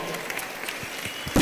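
At a young entrepreneurs' event, a crowd applauds with scattered, fairly faint clapping that builds briefly, with a voice faintly under it.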